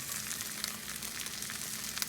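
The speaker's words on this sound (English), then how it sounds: "I'm gonna give it a quick flip." An omelette with mushrooms and leafy greens sizzling in a cast iron skillet just after being flipped, a steady close hiss of frying with no talk.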